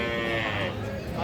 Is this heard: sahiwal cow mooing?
yes